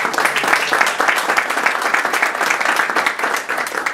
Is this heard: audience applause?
yes